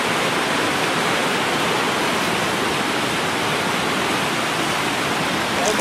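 The Gyr river rushes loudly and steadily, a dense, unbroken roar of flowing water heard up close with no other sounds.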